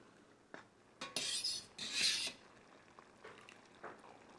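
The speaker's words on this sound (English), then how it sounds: "and then we'll give it a good stir." Pasta being stirred in a metal pot, with a few scraping clinks and two louder bursts of rustling, clattering movement, then quieter pauses; close and fairly soft.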